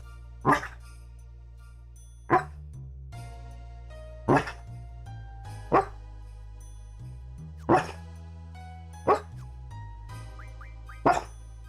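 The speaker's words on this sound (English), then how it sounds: "Oh, he's woofing in his sleep." A sleeping dog gives about six soft, muffled woofs spaced a couple of seconds apart, each brief and close, over quiet video game music playing steadily in the background.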